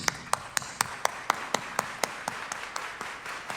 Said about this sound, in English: you're gonna clap 16 times really fast